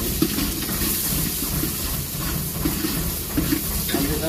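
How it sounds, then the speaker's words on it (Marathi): Three chopped onions frying in a pan for an egg curry, a steady dense sizzle and hiss throughout with faint stirring scrapes, close and continuous. "त्यामध्ये 3 कांदे कापले होते, ते टाकून घेऊया।"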